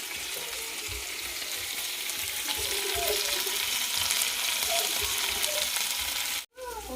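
Spicy Telangana-style chicken fries in a pan over a medium flame with a loud, continuous sizzle and crackle, under occasional soft scraping as it is stirred, ending in a brief cut.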